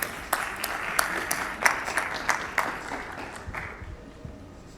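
An audience applauds to welcome a speaker at a molecular diagnostics lecture on skin, hair and nail infections, steady clapping from a room of people that slowly fades out.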